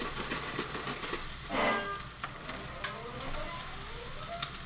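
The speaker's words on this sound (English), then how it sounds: "Really good to go ahead and add the rice now." About three cups of rice tumble into a hot pan for a ribeye steak stir fry, setting off a loud sizzle that settles into steady frying with clinks and scrapes of stirring, no talking.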